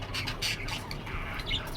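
A sick pet pigeon gives a few short, faint squawks and chirps over a quiet background, with no speech.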